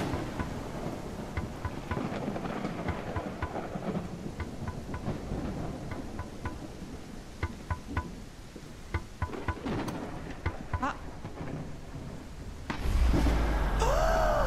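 Steady rain falls in a first-person horror video game, a dense hiss with scattered sharper drops tapping nearby, then a louder gust of noise swells near the end.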